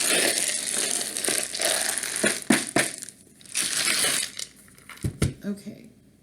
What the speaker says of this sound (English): So let me shuffle the charms.